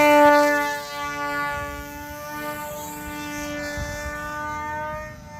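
Electric motor of a Hobby Assassin RC flying wing given throttle while held up in hand: a steady, close, high-pitched whine with strong overtones, slightly rising and easing in level across a few seconds.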